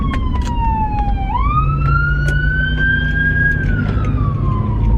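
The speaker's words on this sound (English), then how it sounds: "You're supposed to pull over for those ambulances with sirens on" A loud, nearby ambulance siren, heard from inside a moving car, glides down, then rises and holds a long wavering tone over a steady engine rumble.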